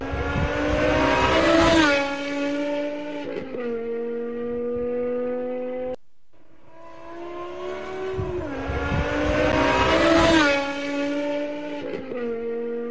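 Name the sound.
convoy of sports cars driving, including a Black Series and RS6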